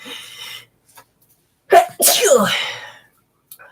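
A single loud, sharp sneeze bursts out close by, preceded by a quick intake of breath, with brief quiet around it.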